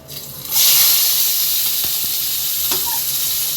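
A sliced large onion goes into hot oil for goat trotter curry, bursting into a loud, continuous hissing sizzle that holds steady at close range, with a couple of faint knocks of a utensil.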